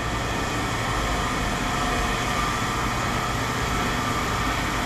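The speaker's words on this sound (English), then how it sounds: "That's a lawnmower engine." A lawnmower engine runs steadily and continuously, a low droning hum with broadband mechanical noise, fairly close and constant throughout with no talk over it.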